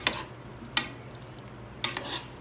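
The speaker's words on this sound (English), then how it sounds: "So now you're just gonna stir it up." A spoon scrapes three times through Dominican stewed eggplant (berenjena guisada) seasoned with adobo, stirred in a cooking pot. The stirs are short, close and spaced apart over a quiet background.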